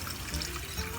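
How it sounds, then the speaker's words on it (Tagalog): Shrimp broth for palabok poured into a cooking pot, a short continuous watery splash and gurgle close by, heard alone without talk. "Ilalagay po natin yung sabaw natin."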